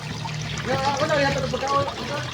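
An LG automatic washing machine drains, letting out a steady trickling gush of water while a voice talks briefly over it.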